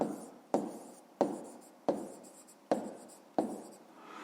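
Pen strokes write numbers on paper while a 5th-grade math exercise is solved, six quick scratching bursts at a steady rhythm, close and quiet, with no talking.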